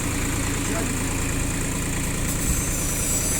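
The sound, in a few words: Star MR2000 hay baler starting up and running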